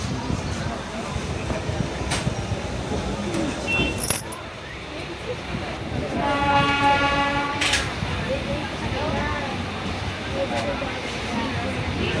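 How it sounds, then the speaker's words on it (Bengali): Passenger train pulling out of a station bound for NJP, with a steady rumble of rail movement and clanking throughout, and people talking close by over the noise. "ট্রেন ছেড়ে দিল"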